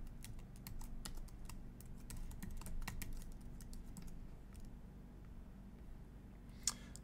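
Quiet, close computer keyboard typing as a username and password are entered, rapid irregular key clicks in bursts that taper off, ending with a single sharper click over a low hum.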